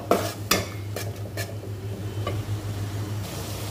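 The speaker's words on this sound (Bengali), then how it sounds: "তো মশলাটা ভালো করে কষিয়ে নিব।" Spice paste for hilsa curry being stirred and sautéed in a pan; a few sharp scrapes and clinks of a utensil against the pan sit over a soft low sizzle and a steady hum, close and without talk.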